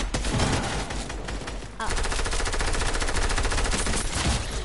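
Rapid automatic gunfire rattles loudly and continuously in a shooter video game, with a brief pause before the bursts resume; a player voice briefly exclaims over it.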